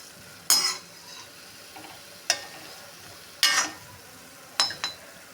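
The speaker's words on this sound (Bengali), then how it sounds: "বড়া ভাজা হয়ে গেছে" Taler bora, palm fruit fritters, fry in oil with a faint sizzle, broken by four sharp metallic clinks of a utensil against the pan at a steady, unhurried pace.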